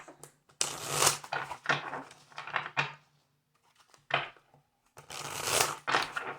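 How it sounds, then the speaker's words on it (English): Tarot cards shuffled by hand close up, several bursts of riffling and crisp card slapping separated by short silent pauses, with no talking. "I'm getting 1 more shuffle."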